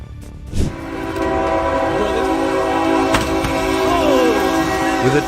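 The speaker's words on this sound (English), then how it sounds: "With a deafening roar, the train plowed into the helpless car" A train sounds its horn and roars along the tracks near Leiden and The Hague in a crash; steady loud rumble with sustained horn tones, a sharp impact burst early and another near the middle.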